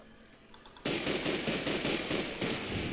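Gunfire in the video game Fallout New Vegas: a few sharp single shots, then a loud continuous burst of rapid automatic fire lasting about two seconds.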